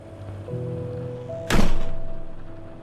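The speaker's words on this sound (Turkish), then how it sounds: "Kapı kapanma sesini duydu." A door in a horror video game slams shut with a single sharp, loud thunk midway, followed by a ringing tail that fades out over a low, steady ambient hum.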